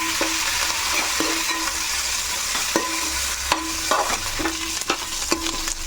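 Green chillies, curry leaves and coriander fry in a pan under a constant loud sizzle, while a spoon scrapes and stirs in regular strokes roughly every half second, close up with no talk.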